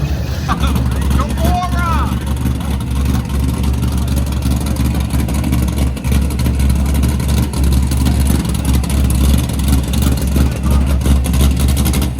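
A C6Z Corvette with an LSX engine cruises around a parking lot, its deep, steady exhaust rumble droning continuously with mild swells in engine speed.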